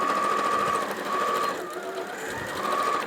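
A sewing machine running steadily while stitching 5/8 side seams on a kids' jumpsuit, a continuous close whirring drone with a faint higher whine rising and fading, no talking.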